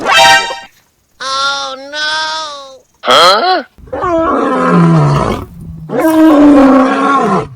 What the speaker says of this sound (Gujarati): ફોનમાં જ હમણાં સિંહનો અવાજ કાઢું